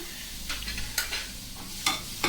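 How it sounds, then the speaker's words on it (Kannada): Garlic and fresh ginger frying in a pan while being stirred, heard as a soft, steady sizzle with a few sharper scraping clatters from the spoon, no talking. "ಬೆಳ್ಳುಳ್ಳಿ, ಹಸಿ ಶುಂಠಿ ಇದು ಕೂಡ ಸೇರಿಸ್ಕೊಂಡು ಹುರ್ಕೊಳ್ಳೋಣ"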